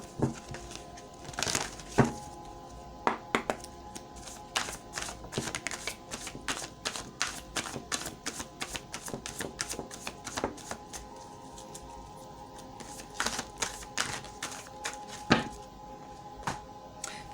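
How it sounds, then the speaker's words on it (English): Oracle cards being shuffled by hand at close range, a run of quick papery riffles and soft slaps in irregular bursts, fairly quiet with no talking. "let's pull some oracle cards"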